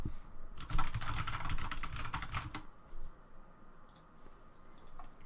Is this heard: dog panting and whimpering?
no